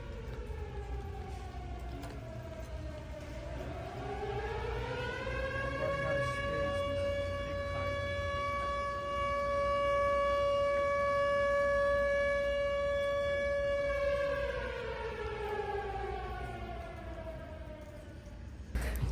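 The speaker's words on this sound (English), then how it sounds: "the tornado sirens went off" A distant outdoor tornado siren slowly rises, holds a long steady wail, then winds back down, sounding alone over faint background noise.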